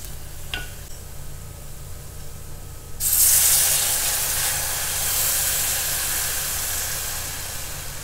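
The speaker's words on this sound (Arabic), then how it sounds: "نبدأ نحط موية الدجاج او مرقة الدجاج" Chicken broth is poured into a pot of butter, garlic and flour, setting off a sudden loud surge of hiss and bubbling sizzle that then settles into a steady simmer after a quieter stretch with light clinks.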